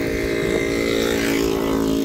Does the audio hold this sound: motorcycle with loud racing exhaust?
yes